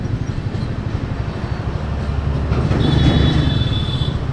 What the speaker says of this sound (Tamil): இங்கே ஒரு ட்ரெயின். தாம்பரம் தாங்க போகுது, சென்னை தாம்பரம் தான் போகுது.